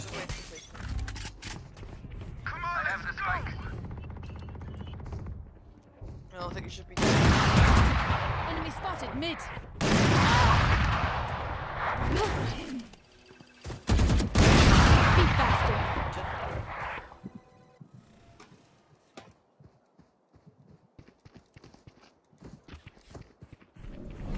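The Odin machine gun fires in Valorant in long, dense sustained bursts of rapid gunfire, loud and close, broken by short pauses, with other game sounds and faint talk in the quieter stretches.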